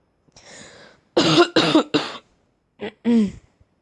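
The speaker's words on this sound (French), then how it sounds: "ça se peut que je tousse un peu pendant les vidéos cette semaine" A person coughs several times in quick bursts, close by, then pauses and coughs twice more, with a short throat-clearing sound before.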